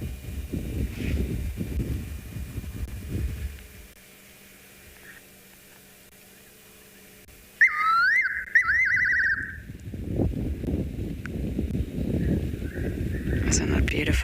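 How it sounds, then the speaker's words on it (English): A fiery-necked nightjar calls in the South African bush at dusk, a brief clear whistled phrase rising out of near silence after speech, with wind noise and talking resuming afterward. "It's a fiery-necked nightjar"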